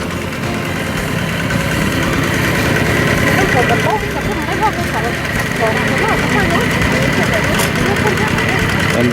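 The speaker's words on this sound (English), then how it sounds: "it's just a motor and wheels with a long handle" A small walk-behind motor tractor with wheels and a long handle runs during hand rice harvesting, a steady loud engine drone throughout, with voices talking over it.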